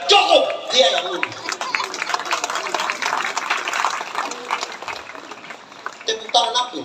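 A church congregation claps during an Indonesian worship service, a steady patter running throughout with voices talking over it and a few louder bursts of clapping.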